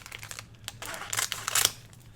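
Scissors snip paper embellishments off their backing sheet for a folio journal, giving a few close, crisp cuts and crinkles that grow denser and louder toward the end, with no speech.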